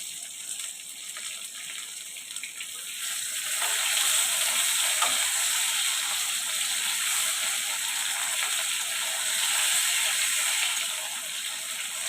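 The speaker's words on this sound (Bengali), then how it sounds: "আলুটা ফ্রাই করে নিলে খুব ভালো হয়। লাল লাল করে ফ্রাই করে নেব আলুটা।" Potatoes frying in hot oil in a home kitchen while fish curry is being made, a steady dense sizzle that swells louder partway through and stays continuous, with faint stirring and no talk.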